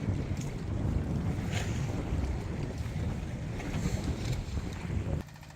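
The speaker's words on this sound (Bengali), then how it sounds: "বিশাল বিশাল ঢেউ হচ্ছে" Huge sea waves near Saint Martin's island churn in a continuous rushing roar mixed with wind, steady and unbroken before dropping off abruptly at the end.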